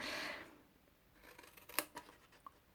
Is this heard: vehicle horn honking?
no